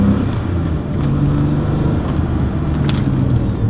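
A 1995 Porsche 911 993 C4 engine droning steadily from inside the car as it is rev-matched through a downshift, a constant loud low rumble with a faint rise in pitch.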